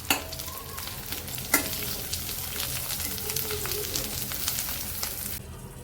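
Paneer and masala with cashews fry steadily in a pan for palak paneer, giving a continuous close sizzle with a few crackles and a sharp clink of stirring.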